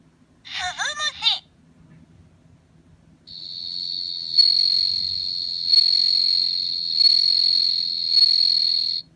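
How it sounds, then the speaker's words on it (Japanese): Bell crickets (suzumushi) chirp in a clear, high ringing trill, repeated in steady, evenly spaced bursts. The sound is close and distinct, and a brief voice is heard just before it. "スズムシ。"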